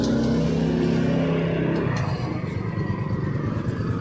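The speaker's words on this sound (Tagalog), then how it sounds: "umandar yung motor" Motorcycle with a faulty fuel pump starting up: a steady low tone gives way after about two seconds to a rough, pulsing idle that keeps running close by, with no talk.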